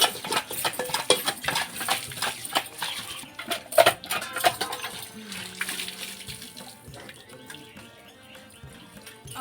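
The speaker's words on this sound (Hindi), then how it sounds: "तो हम ऐसी हालत में बर्तन घिस रहे हैं, बर्तन धो रहे हैं।" Dishes scrubbed and washed under running tap water, steady splashing with sharp clinks and scrapes of utensils and pots, close and busy, fading slightly toward the end.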